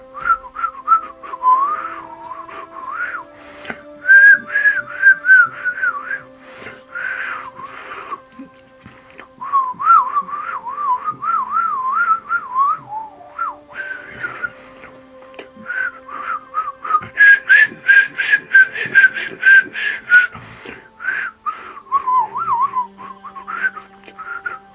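A person whistles in imitation of birdsong, warbling trills and fluttering phrases in repeated bursts with short pauses, clear and close.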